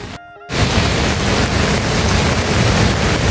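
Heavy rain pours steadily at a Sardu river construction site, a loud, dense hiss that starts abruptly after a short quieter moment and continues unbroken.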